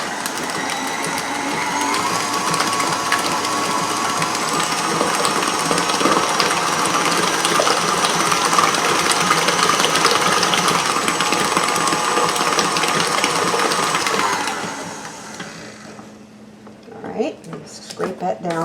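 A hand mixer whirs loudly and steadily as it beats eggs into chocolate chip cheesecake batter, a continuous buzzing drone that cuts off near the end, followed by scraping and clinks.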